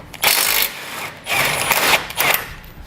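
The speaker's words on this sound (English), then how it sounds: "Using an 18mm socket, I'm going to remove the 4 nuts that are holding the bumper beam on each side." An 18mm socket on a power tool whirs in three short bursts while removing the bumper beam nuts on a 2015 BMW X5, each burst a loud mechanical buzz separated by brief pauses.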